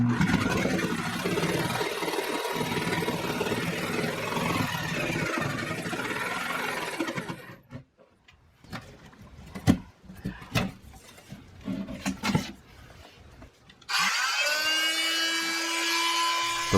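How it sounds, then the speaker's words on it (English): A 5-amp Skil circular saw cuts through wood for a cat litter box cabinet, whining loudly in one long cut, then clattering and handling noises, before a second cut starts near the end. "The skill saw just cuts right through that like it's nothing."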